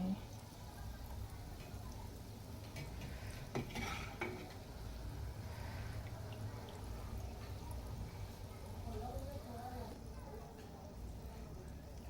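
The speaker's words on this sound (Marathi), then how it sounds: "एकदम मंद आचेवर व्यवस्थित आपल्याला तळून घ्यायचं आहे." Khoya gulab jamun balls fry gently over a very low flame, a quiet bubbling hiss with occasional clinks and scrapes of a utensil against the pan, while a voice speaks softly nearby.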